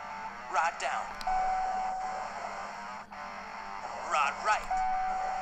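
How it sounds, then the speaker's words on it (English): Steady high electronic beeps from the Nintendo 3DS fishing game Big Bass Arcade 3D No Limit sound in sustained tones, repeating a few seconds apart, with quiet background hum. "can hear the beep going"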